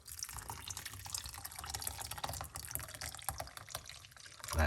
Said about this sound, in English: I will put another cups of hot water.